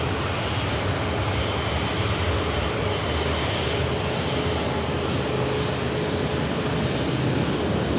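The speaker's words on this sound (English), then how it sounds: "Here is the beautiful Singapore Airlines Airbus A350." Steady, loud broadband roar of a Singapore Airlines Airbus A350's engines at Manchester Airport, a constant rumble and hiss holding level for the full stretch with no voices.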